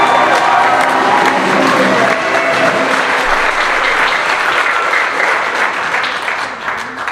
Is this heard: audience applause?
yes